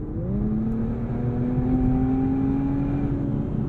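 A 2023 Infiniti Q50 Red Sport pulls hard under acceleration, a steady engine tone rising smoothly in pitch over a few seconds from inside the cabin, loud and continuous with no talk.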